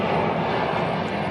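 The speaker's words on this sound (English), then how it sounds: "2167 headed to O'Hare, a Boeing 737." A Boeing 737 airliner's jet engines roar loud and steady at an airport, a continuous broadband rumble with no pauses.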